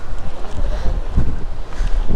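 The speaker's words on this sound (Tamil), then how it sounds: "செம்ம காத்தடிக்குது." Strong wind blows at Poompuhar beach, a loud, steady roar buffeting the microphone with rumbling low gusts throughout and no voices.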